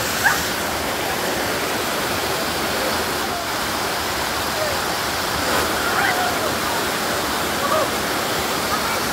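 A hidden waterfall at Anduyan pours in a steady, full rush of falling water, loud and close, with no breaks across the whole stretch.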